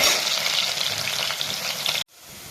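Garlic with cinnamon and cardamom fries loudly in hot sesame oil, a dense close sizzle for two seconds that cuts off abruptly and resumes more quietly.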